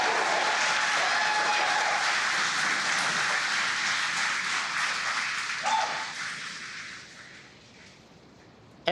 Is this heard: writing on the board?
no